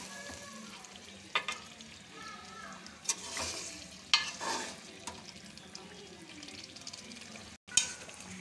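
Butter is stirred into chicken tikka karahi sizzling in a karahi pan, giving a steady hiss and crackle of frying with occasional spoon scrapes and clinks against the metal, close and alone without talk.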